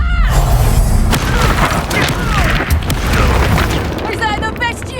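Loud magical blasts and crashing impacts from casting the Confringo explosive spell in the Hogwarts Legacy video game, layered with game effects and voices throughout.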